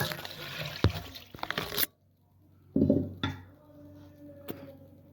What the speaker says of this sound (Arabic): غادي نضيف الحليب، نص لتر ديال الحليب